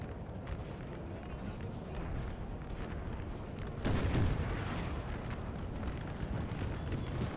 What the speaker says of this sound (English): artillery has set up now